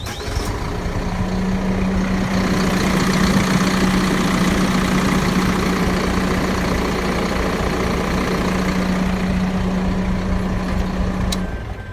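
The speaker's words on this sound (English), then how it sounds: "Diesel engine, ready to go." A Hino 16-foot box truck's diesel engine idles steadily with a low, even hum and faint knocking texture, continuous and close with no talk over it.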